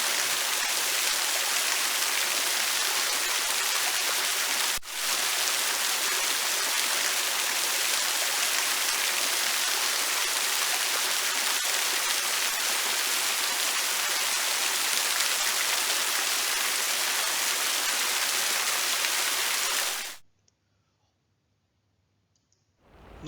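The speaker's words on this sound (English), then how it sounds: "Let's listen to the sound of a waterfall." A waterfall roars as a dense, steady wash of falling water, loud and unbroken for about twenty seconds before cutting off abruptly into near silence.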